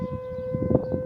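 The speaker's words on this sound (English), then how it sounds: "siren testing, well, tornado siren testing. They're sounding them." A tornado warning siren sounds during a test in northwest Indiana, carrying a steady tone at moderate level with faint rumbling underneath, heard alone without voices.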